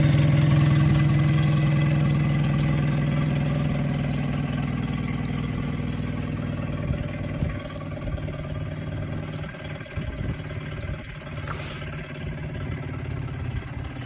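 A Yamaha 9.9 high-thrust outboard motor idles steadily up close, its engine note easing down slightly over time with some mechanical clatter later on.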